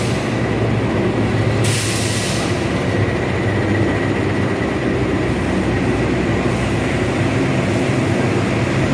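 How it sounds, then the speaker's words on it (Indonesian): Argo Semeru and Taksaka passenger trains pull into Purwokerto station together, a loud continuous rumble of rolling wheels and rail noise with a brief brighter burst near the start, no voices. "ketika kereta Argo Semeru tiba di Purwokerto secara bersamaan, kereta favorit saya, kereta api Taksaka juga tiba di stasiun Purwokerto"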